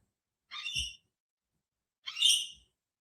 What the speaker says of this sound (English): sorry about my birds. They're just saying hi.